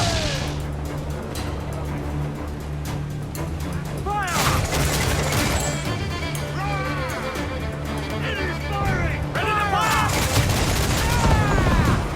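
Ship cannons fire in a naval battle in Assassin's Creed 4 Black Flag, several loud booming volleys breaking through constant sea and battle noise, with crew shouting and a game soundtrack underneath.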